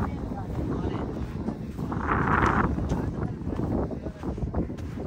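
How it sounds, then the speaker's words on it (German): Strong desert wind in Dubai buffets and roars steadily across the microphone in a dense, loud rush, with a gust swelling midway. "Der Wind, seht ihr das? Es ist sehr, sehr windig."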